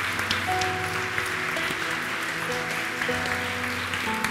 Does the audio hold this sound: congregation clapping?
yes